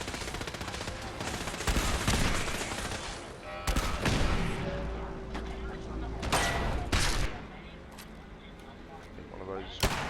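Rifle fire from Fallout 4 (Automatron) combat, with several sharp, loud shots and bursts spread over the span, rapid volleys amid mechanical clatter and a sustained tone, while a voice talks over parts of it.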